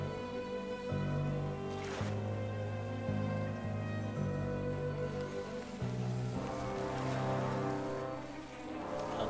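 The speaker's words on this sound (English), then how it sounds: "Oh, it's raining." Steady rain patters across a surface with a soft constant hiss, while low sustained musical tones hum underneath; no voices.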